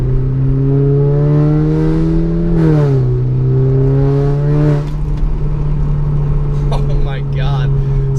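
A tuned Audi A4 with a K04 turbo, about 330 wheel horsepower and methanol injection, revs hard under acceleration, heard from inside the car with the windows cracked. Its loud steady drone rises and dips between shifts, with a voice briefly near the end.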